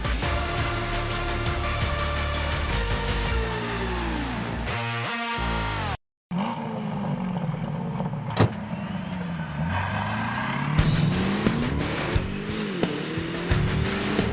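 An Aston Martin DBX707 SUV with a 4000 cc engine and 9-speed automatic accelerates hard, the engine note climbing through gear changes with a short break in between, loud and close.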